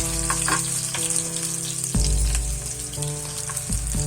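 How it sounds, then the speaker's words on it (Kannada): Onions frying in oil until brown for radish sambar: a loud, continuous close-up sizzle with crackling and a few utensil knocks and stirs against the pan. "ಬರೀ ಈರುಳ್ಳಿ ಹಾಕಿ ಫ್ರೈ ಮಾಡ್ತಾ ಇದ್ದೀನಿ ಸ್ವಲ್ಪ ಬ್ರೌನ್ ಕಲರ್ ಬರೋವರೆಗೂ ಫ್ರೈ ಮಾಡಿದ್ರೆ"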